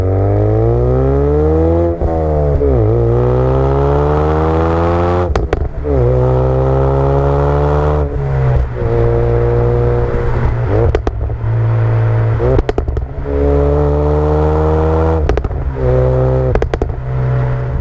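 A Ford Focus RS engine pulling hard through the gears, loud and close, with rising revs broken by quick shifts and crackles between each climb.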